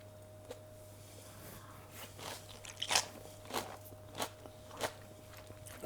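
Crunching bites while eating a lunch with kimchi and ginger, several distinct crisp crunches spaced about a second apart, close and fairly quiet, over a steady low hum.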